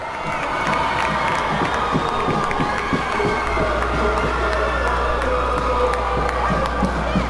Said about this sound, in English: You hear the Berlin student section cheering.